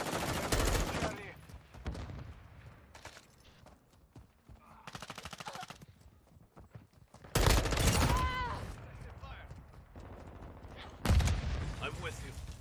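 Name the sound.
gunfire in a multiplayer shooter video game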